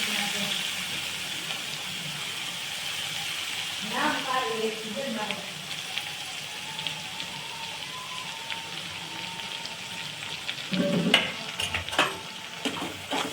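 Ginger-garlic paste, chillies and onion frying in a pan, a steady close sizzle with stirring and scraping, and a brief hissing flare toward the end, with a voice speaking over it at times.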